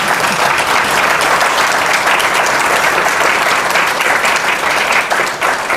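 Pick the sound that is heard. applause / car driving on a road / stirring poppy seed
applause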